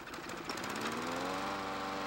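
A lawn mower engine being pull-started, a rough, fast mechanical chatter that rises steadily over two seconds with no speech.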